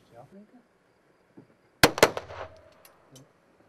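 Two sharp, loud pistol shots crack in quick succession at a shooting range after quiet murmuring, followed by a brief ringing tail and faint voices.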